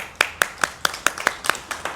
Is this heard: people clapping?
yes